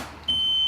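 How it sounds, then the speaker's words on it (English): Homemade sump pump failure alarm, a loud piercing continuous electronic beep that starts abruptly after a brief moment of room noise and holds steady. "He built an alarm system, so if this sump pump ever goes out, the moment your sump pump stops working,"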